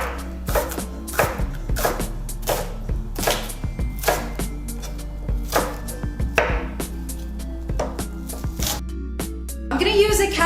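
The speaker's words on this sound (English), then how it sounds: "Your knife should easily glide through the onion." A knife chops an onion on a board, a quick run of sharp, close chops in an uneven rhythm with a scraping rustle at the end.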